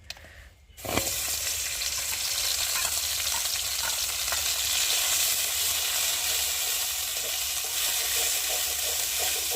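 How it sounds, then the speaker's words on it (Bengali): Ground bottle gourd leaf paste frying in hot oil in a wok, a loud, steady dense sizzle that begins abruptly after a brief quiet moment and continues unbroken, with faint stirring scrapes. "আর এখন আমি কড়াতে তেল দেব। আর যে পাতাটা বেটেছি সেই পাতাটাকে একটু ভালো করে ভেজে নেব।"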